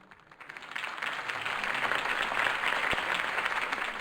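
Applause from a crowd follows a campaign speech in the Batman Telltale game. It starts faint and quickly swells into a sustained, even wash of clapping, with no voices over it.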